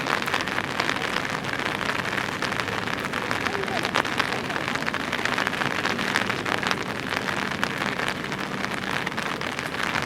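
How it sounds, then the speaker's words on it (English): Steady rain falling on surfaces at a bass fishing tournament, a constant dense hiss of drops pattering outdoors for the whole stretch, with faint voices underneath. "It's raining, so we ain't gonna take long, I promise."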